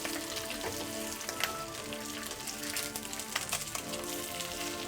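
Beef bacon strips frying in a hot skillet, a steady close crackle and spatter of fat with small pops scattered throughout, no voices over it.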